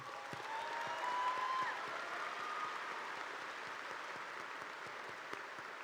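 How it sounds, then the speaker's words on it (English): Sustained applause from a large audience at a Lafayette High School graduation ceremony, steady clapping throughout at moderate volume, fairly distant. "Please give them a round of applause."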